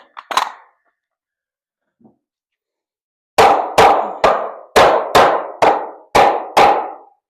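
A single strike, a pause, then a rapid run of eight sharp hammer blows at an even pace, loud and close.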